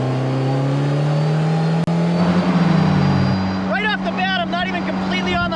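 A small open car accelerates hard up a highway on-ramp, its engine note rising loud and close, then shifting as someone talks over the roar.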